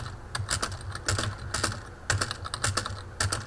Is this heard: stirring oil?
no